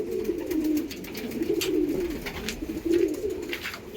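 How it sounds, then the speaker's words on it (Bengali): Female pigeons coo in low, rolling, throaty calls close by, with several overlapping phrases over light background rustle. "আর আজকে মাদি পায়রা ছেড়েছি।"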